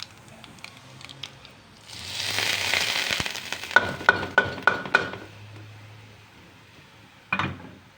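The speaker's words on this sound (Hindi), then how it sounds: "दाल में भगार करा मैंने, सिर्फ आज लहसुन और कड़ी पत्ते का किया है।" Garlic and curry leaves sizzling in hot oil as a tempering is poured over dal, a loud burst of spitting sizzle followed by several sharp clinks of a metal ladle and a later clatter, close by.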